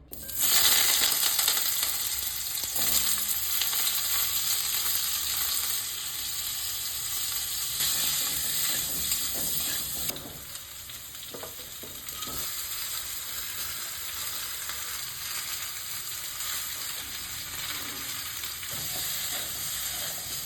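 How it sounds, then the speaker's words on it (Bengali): Steady sizzling of potato, pumpkin and drumstick pieces frying in oil with salt and turmeric, a continuous bright hiss with occasional stirring scrapes, close and moderately loud, no talking. "আলু, কুমড়ো, ডাঁটা নুন হলুদ দিয়ে ভেজে নেব"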